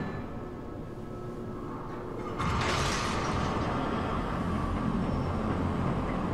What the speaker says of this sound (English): Big ass fucking door.